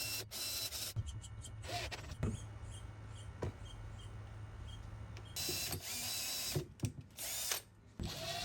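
A power drill bores holes into a wooden board for a gym storage chest, with several short whirring bursts separated by pauses and handling noise, fairly quiet and close.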